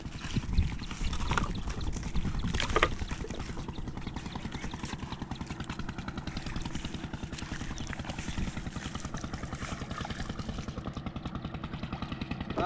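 A boat approaches across the water, its motor giving a steady rapid chugging pulse at moderate distance, continuous throughout with faint background noise.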